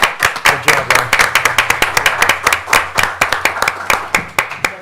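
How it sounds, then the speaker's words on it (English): Scattered hand clapping at a Haverford Township budget meeting, a small group whose individual claps stand out in uneven rhythm, close and fairly loud, over a faint low hum. "I just want to get a round of applause for Good job, Larry."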